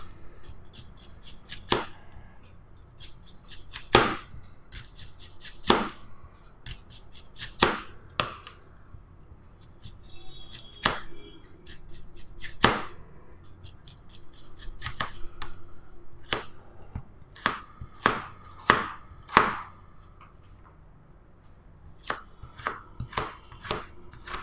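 An onion is chopped with a Bergner slicer knife in sharp, distinct strikes on a board, irregularly spaced with short pauses, close and crisp over a quiet background.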